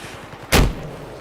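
A single loud sniper gunshot in a Battlefield game cracks out close and sharp just before the midpoint, then decays into a low rumble over faint background ambience.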